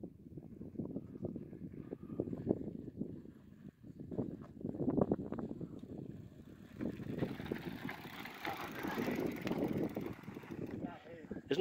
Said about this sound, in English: Isn't that noise on the tires great too?